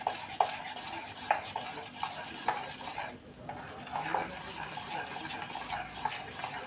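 A spoon mixes cake batter with added milk in a bowl, giving quick, rhythmic clinks and scrapes at close range with a brief pause midway.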